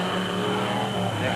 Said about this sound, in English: There's Jabir's Volkswagen Beetle with that Volvo engine.